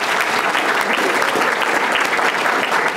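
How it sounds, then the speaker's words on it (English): Audience applause at a panel event on social services in Illinois, dense and loud sustained clapping from a large crowd throughout. "Give her a round of applause, Marca."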